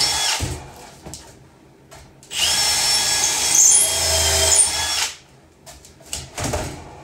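A power drill whines in short bursts as it bores into wood while installing a wood-burning stove in an RV travel trailer; the drill bit is too short. The longest is a steady grinding run of a few seconds, with quiet pauses between.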